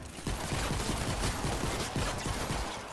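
Rapid assault rifle fire in Fortnite, a dense run of repeated shots with a steady rhythm, loud and close throughout.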